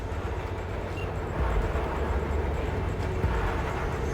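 A train moves in Cyberpunk 2077, a dense, steady rumbling roar with broad hiss that swells slightly midway and holds loud throughout.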